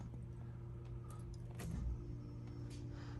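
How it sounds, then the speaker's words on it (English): A power window closes inside a diesel Bronco with a 7.3 engine, giving a faint whirring motor hum over a low, steady engine rumble, with a slight thump about halfway through. "I'll close the window so you can hear with that closed."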